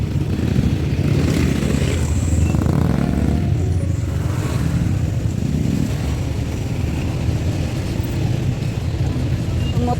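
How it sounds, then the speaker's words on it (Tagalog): Motorcycles and cars move through congested traffic, their engines a continuous close rumble with occasional revving, heard from within the flow of vehicles. "Ang motor sa sulpot-sulpotan na oh."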